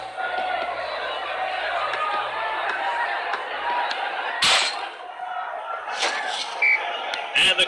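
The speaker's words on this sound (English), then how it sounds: "And the crowd are well behind their team now." A stadium crowd in the Dream League Soccer 2019 football game keeps up a steady roar of cheering, broken by a few sharp bursts and thumps, while a match commentator talks over it.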